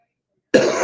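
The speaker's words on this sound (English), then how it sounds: "as soon as I started the show, I started coughing" A single sharp cough breaks out abruptly after a moment of silence, close and fairly loud, with a brief raspy tail.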